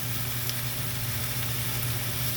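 Bitter gourd (ampalaya) and egg fry in a pan with a steady, even sizzle that holds unbroken throughout.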